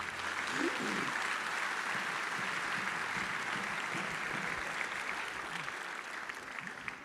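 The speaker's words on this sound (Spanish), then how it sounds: "Denle un aplauso al Señor." A church congregation applauds steadily at a preaching service, a dense wash of clapping holding for several seconds with faint voices underneath.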